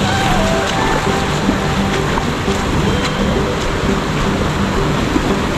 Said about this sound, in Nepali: आकाशम पानीको पर्छ धेरै छ